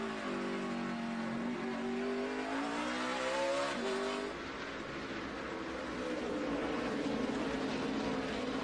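Onboard a race car at the 2012 Sargento 200 road-course race, riding with Elliott Sadler: the engine climbs in pitch, drops sharply on a shift, then roars on loud and continuous.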